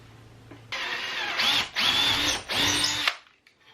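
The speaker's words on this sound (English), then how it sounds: "I'm going to just drill holes into the bucket lid as well, following the pattern of my wood here." A power drill bores holes through a piece of wood into a plastic bucket lid, running in three loud, close whirring bursts separated by short pauses.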